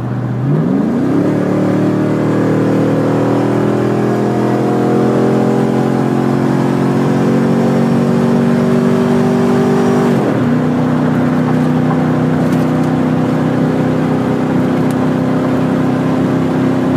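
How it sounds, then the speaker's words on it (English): A Chevy Silverado engine revs under throttle, climbing sharply in the first second, holding a steady loud drone, then dropping to a lower sustained idle-like tone with a faint whine, close and continuous with no talk. "Give it a little bit of throttle."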